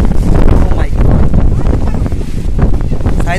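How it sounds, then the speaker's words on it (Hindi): Strong wind roars and buffets the microphone continuously, a loud, rough rushing noise with a faint voice underneath. "बहुत ही तेज़ हवा लगने यू नो चालू हो चुकी है, बहुत ही तेज़ हवा आप लोग देख सकते हो।"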